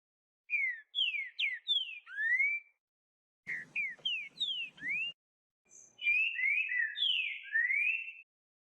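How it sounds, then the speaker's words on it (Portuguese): Great saltator (trinca-ferro) song: three bursts of loud, clear, rising and falling whistled phrases, each run of notes separated by short pauses, close to the microphone with no other sounds. "Trinca-ferro."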